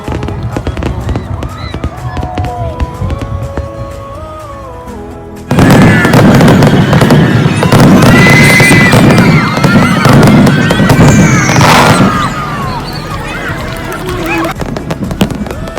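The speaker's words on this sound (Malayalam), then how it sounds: "കൃത്യം 10 മണിക്ക് ഫയർ വർക്ക്സ് സ്റ്റാർട്ട് ചെയ്തു." A fireworks show at a church feast in Canada, heard as a dense barrage of booming bursts and crackling pops that swells loud and continuous midway, with people talking and calling out nearby.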